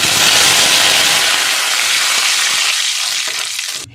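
Asafoetida-soaked water hits hot oil already holding a bay leaf, bursting into a loud, steady hiss of frying that gradually softens and thins over a few seconds.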